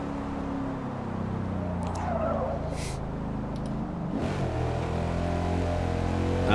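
A manual 2018 V8 car in Forza Motorsport, racing at Grand Oak Raceway, with a steady low engine drone and a rising, shifting pitch as it accelerates, plus brief tire squeals, continuous and fairly close.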